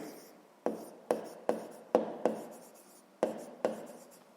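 A pen writes by hand on paper while a math exercise is worked out, producing quiet, close scratchy strokes in short separate bursts with pauses between them.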